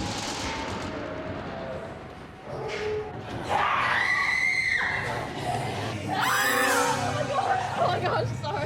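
A woman screams in a building where former nurses return to see their old rooms, high wavering cries rising loud over chatter and background talk, two bursts across the second half.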